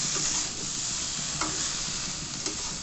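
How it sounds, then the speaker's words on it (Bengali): Vegetables for a vegetarian Malabar spinach dish stirred in a pan, a close, continuous sizzle with scraping strokes of a spatula and occasional clinks. "সব সবজিগুলো একসাথে ভালো করে মিশিয়ে নিতে হবে।"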